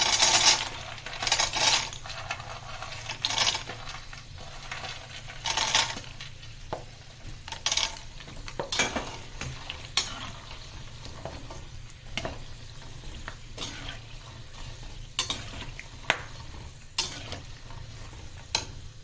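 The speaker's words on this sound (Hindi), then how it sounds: "और ये बादाम हमारा सिकने लगा, इसमें आवाज आने लगी है।" Irregular crackling and clicking of almonds roasting in a dry pan, with occasional scraping as they are stirred; no voices.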